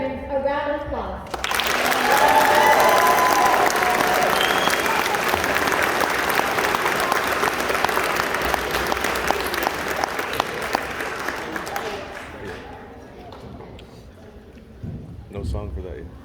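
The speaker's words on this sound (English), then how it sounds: "Please give our veterans a round of applause." An audience at a fifth-grade Veterans Day school performance applauds veterans of the armed services, a dense burst of clapping that starts abruptly, holds steady for about ten seconds, then thins out; a few voices mix in near the end.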